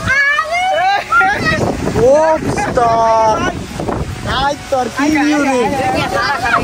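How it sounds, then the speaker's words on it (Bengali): Stormy wind roars as a steady broadband rush beneath loud, continuous talking from several voices outdoors, gusting throughout the clip. "আমাদের হচ্ছে এরকম তুফান শুরু হয়েছে"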